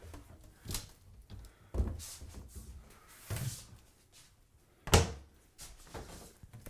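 Cabinet doors in a home interior being opened and shut one after another, several separate wooden thunks and clacks at uneven intervals, fairly quiet and close with no talking.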